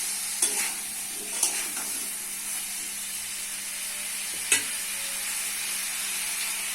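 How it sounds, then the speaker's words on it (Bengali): Potatoes stir-fried in a pan with cumin powder, coriander powder and salt hiss in a steady, even sizzle, broken by a few sharp spoon scrapes against the pan. "দিয়ে দিচ্ছি আলু আলুটি ভালো করে কষে দিতে হবে"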